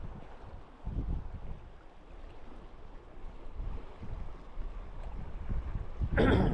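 Wind gusts across a river during fly fishing, roaring in low, uneven surges and buffeting the microphone, with a sharper rush of noise at the very end.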